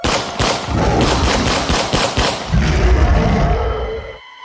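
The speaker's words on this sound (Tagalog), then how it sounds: "magkakasunod na putok ng baril" Rapid bursts of gunfire crack out in quick succession, loud and close, followed by a heavy low thud and rumble before cutting off.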